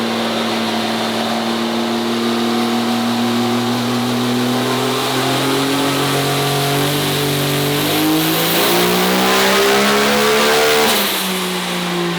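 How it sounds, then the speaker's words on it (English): A race car engine of roughly 985 horsepower revs hard on a dyno pull with the wastegates blowing wide open. The loud, sustained roar climbs steadily in pitch and drops off sharply near the end. "that was blowing the wastegates wide open at 985 horsepower"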